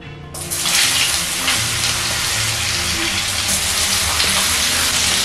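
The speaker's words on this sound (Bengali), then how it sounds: "কড়াইতে যে তেলটা আছে সেই তেলের মধ্যে দিয়ে দিচ্ছি বেগুন" Eggplant pieces tossed into hot oil in a wok, sending up a loud, close sizzle that starts abruptly and keeps hissing steadily with faint stirring underneath, no speech.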